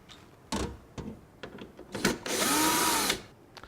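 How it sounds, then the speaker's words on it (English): A power screwdriver backs screws out of the top cover of a distributor: short whirring bursts, then one longer steady whine rising and falling in pitch, with clicks and handling noises between, close and fairly quiet. "remove these 3 screws that are on the back of the top cover"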